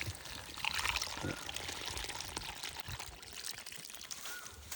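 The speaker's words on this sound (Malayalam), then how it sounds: "നമുക്ക് നടാനുള്ള സ്ഥലത്തോട്ട് നമ്മൾ ഡ്രഞ്ച് ചെയ്യുകയാണ്" Water-soluble fertilizer solution poured as a drench onto garden soil for planting bitter gourd, a steady close splashing pour over light background noise.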